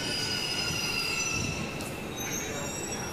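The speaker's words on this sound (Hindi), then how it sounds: "हम मेट्रो स्टेशन आ गए हैं और मेट्रो भी आने वाली है ये लीजिए मेट्रो भी आ गई" A Delhi Metro train pulls into a station with loud, continuous wheel squeal and rumbling rail noise throughout, close by and without talking.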